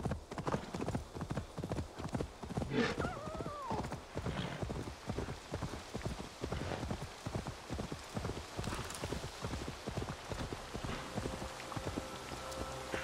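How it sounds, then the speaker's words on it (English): Rapid, steady hoofbeats of a galloping horse in the video game Assassin's Creed Valhalla continue throughout, with a brief whinny early on. "Faster horse, faster."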